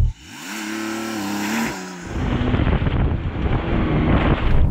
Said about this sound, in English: So I'm going to drive this slalom course, time it